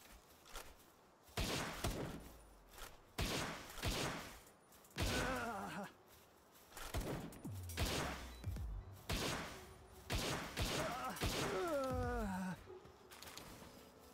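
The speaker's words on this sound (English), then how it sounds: "Shotguns to the head. Who would have thought?" Shotgun blasts in the video game Palworld fire in a rough series of loud, sharp booms spaced a second or two apart, with a few faint voiced sounds between them.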